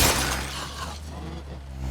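A car crashes at the fuel pumps in the State of Decay 2 video game, a loud burst of breaking and shattering glass at the start that settles into a steady rumbling engine bed, with no talk.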